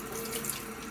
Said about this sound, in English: So my daughter is just running it underneath cold water